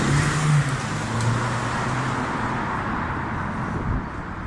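A diesel car approaches and runs on a cold day, its engine a steady, moderately loud rumble with road noise that eases slightly toward the end.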